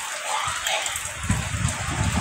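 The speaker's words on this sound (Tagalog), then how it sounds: "Hangin na lang siya, guys, na may dala-dalang ulan." Strong wind from Typhoon Christine sweeps past carrying rain, a steady broad roar with gusting surges and low rumbling buffets, close and continuous throughout.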